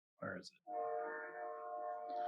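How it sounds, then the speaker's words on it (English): A train passes near a house and sounds a long, steady horn that holds for well over a second, right after a brief voice. "Well, we got trains."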